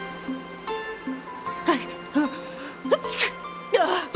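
A game character in Honkai Star Rail sneezes in a cold, snowy hotel setting, with a couple of short sharp bursts standing out over quiet background music.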